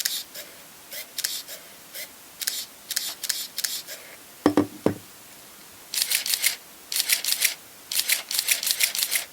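A Contax G film camera's shutter fires repeatedly, close-up clusters of sharp mechanical clicks and motor whirs in quick bursts, with one heavier double clack partway through and brief pauses between groups.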